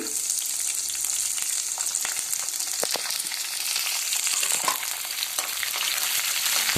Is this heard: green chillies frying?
yes